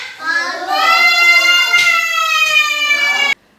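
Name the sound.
child imitating an elephant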